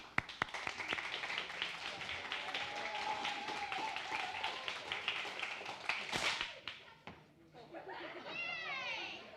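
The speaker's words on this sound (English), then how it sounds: "When I clap at the end, you clap with me and it ends" A youth ministry crowd claps together in unison among loud voices and room chatter, with a sharp burst of claps near the end followed by a brief lull.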